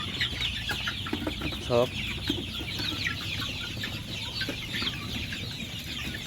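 A flock of Sonali chickens and chicks on a poultry farm clucks and peeps steadily close by, with farmyard noise and someone speaking briefly.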